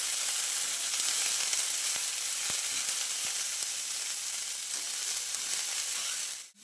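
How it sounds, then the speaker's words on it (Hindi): Onion, chilli, cabbage and carrot sautéing in a pan for Maggi noodles, a steady close sizzle and crackle with a few brief stirring clicks, no talk, ending abruptly. "अब इसके अंदर हम पत्ता गोभी और गाजर डालेंगे, फिर इसको चलाएंगे और इसको भी भुजने देंगे अच्छी तरीके से"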